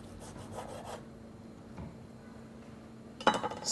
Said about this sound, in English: Just want to zigzag your knife back and forth to have like these nice shavings of pancetta.